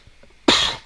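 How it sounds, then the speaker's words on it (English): A single sharp, loud cough bursts out close up after a moment of near silence. "I don't mean to cough in your ear."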